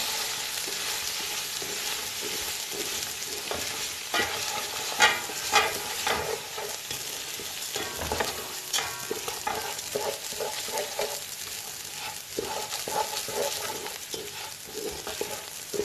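Rice stirred into a pan for shrimp fried rice, a steady frying sizzle layered with repeated scraping and tossing strokes of the spoon, close up and continuous, no one speaking.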